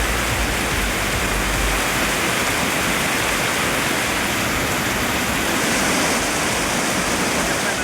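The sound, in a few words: heavy rain and flowing water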